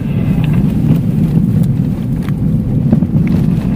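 A car on a group road trip to the Sredny and Rybachy peninsulas gives a steady, loud low rumble of engine and road noise with wind buffeting throughout, no clear voices.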